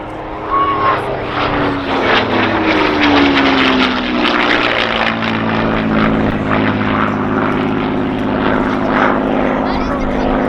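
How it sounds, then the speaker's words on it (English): A Merlin-powered P-51 Mustang fighter roars past at an airshow, its piston engine droning loud with a rising and falling pitch as it passes, while an announcer talks over it throughout. "The Merlin-powered Mustang truly excelled as a long-range escort fighter"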